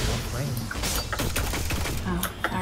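Gunfire in the video game Destiny 2: rapid, repeated shots crackle through the whole short stretch as a mid-level stream, with people talking over it.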